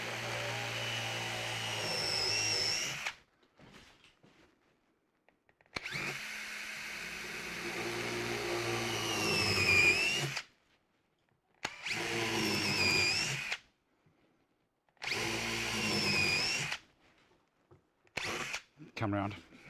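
Power drill driving roofing screws to attach casters in a workshop, four long whirring bursts of several seconds each separated by silent pauses, loud and close, with a short final burst.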